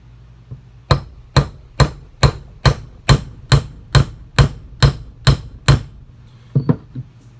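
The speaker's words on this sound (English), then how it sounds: "And I hammer it down to where it's smashed up against my cable there." Twelve sharp metallic hammer blows on a cable crimp held in a vise land in a steady, even rhythm, close and loud, followed by a couple of lighter taps after a brief pause.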